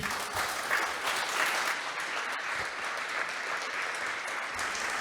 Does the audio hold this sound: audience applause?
yes